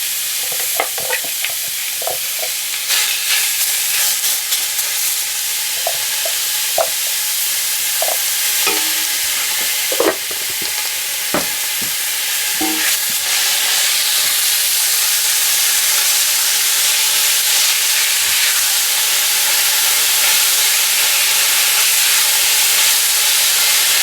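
A pound of ground beef fries in a pan over medium-high heat, a loud continuous sizzle and hiss with repeated clacks and scrapes of a utensil breaking up the meat, the stirring easing off later.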